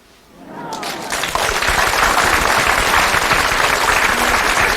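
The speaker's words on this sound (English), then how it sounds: "let's give her a big round of applause" A large crowd breaks into loud, sustained applause that swells quickly from near silence and holds steady, dense clapping throughout.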